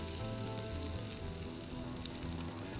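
Mutton seekh kebabs cook on a hot pan with a steady, close sizzle that stays even and unbroken for the whole stretch.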